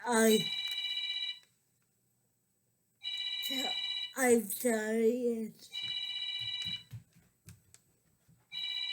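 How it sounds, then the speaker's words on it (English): A mobile phone ringtone chirps in repeated bursts of bright electronic tones, with someone speaking between and over the rings in an indoor setting. "my husband's phone, kid's phone"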